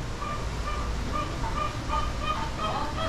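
Poultry calling in a steady, noisy background, with repeated short honking squawks and clucks from several birds throughout.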